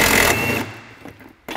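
A power tool fitted with a bolt-biter socket works a stuck, crusty suspension bolt on a Honda Element: a loud, buzzing mechanical whir for about half a second, then quieter rattling before a brief restart.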